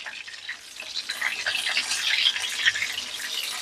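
Chicken cutlets sizzle in a frying pan, a gentle, steady crackling hiss with scattered small pops, fairly quiet and close, with no talk.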